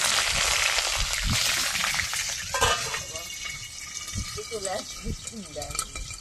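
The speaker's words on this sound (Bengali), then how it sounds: "ফোড়নটা ভেজে নিয়েছি, এবার দিয়ে দেবো কলমি শাক" Steady frying sizzle of black cumin and green chillies in mustard oil fills the clip, a continuous crackling hiss with occasional soft clinks and stirs, fairly close and loud throughout.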